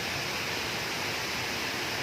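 Rushing river water at the intake of a Subic Water pumping station, a steady broadband roar with no breaks, heard alone and fairly soft.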